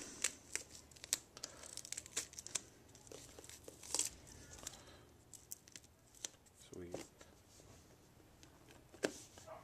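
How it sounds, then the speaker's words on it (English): Adhesive tape peeled off a boot treated with a dried KG Boot Guard coating, giving a series of short ripping and crinkling tears that are quiet and close. "I'm ready to peel the tape off"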